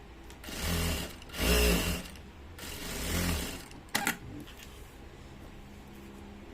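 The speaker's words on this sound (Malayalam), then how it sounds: "ഇങ്ങനെ വെച്ച ശേഷം ഈ സൈഡിൽ കൂടി അല്ല, ഇപ്പുറത്തെ സൈഡിൽ കൂടി നമ്മൾ സ്റ്റിച്ച് ചെയ്യുക." A sewing machine stitching the front fly of a pair of pants runs in three close, whirring bursts, followed by a sharp mechanical clack and quiet handling, with no voices.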